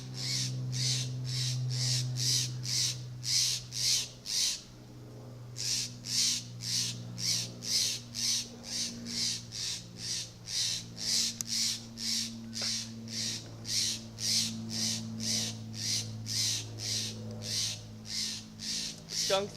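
An agitated mother bird calls over and over at a cat, loud harsh caws in a fast steady series close by, with a brief pause, over a low steady hum.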